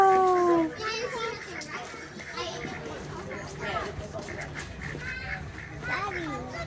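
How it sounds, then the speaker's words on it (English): Ducks, mallards among them, quacking at a pond while children chatter and play nearby, with the birds' calls scattered under the excited young voices at close range. "Look at those duckies."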